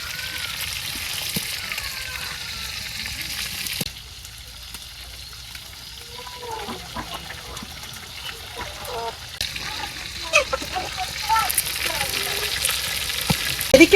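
Leafy greens from a kalai field cook down in a pan with a splash of water, hissing and sizzling steadily up close, with faint bubbling and trickling that swells louder toward the end.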